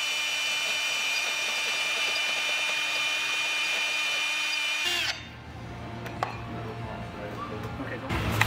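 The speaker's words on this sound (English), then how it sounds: "So this is basically a drill press." A drill press runs with a steady high whine in a workshop while building a 1958 Ford F100, then cuts off midway, leaving shop noise and scattered clanks.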